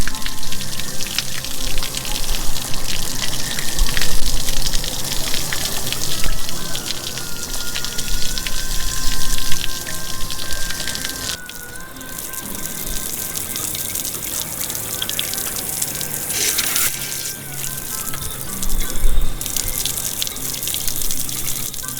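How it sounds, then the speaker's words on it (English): Water gushes steadily out of an RV hot water tank as sediment is flushed, a loud continuous spattering hiss with splashes that rises and falls over about twenty seconds. "all I want to do is flush out all that sediment"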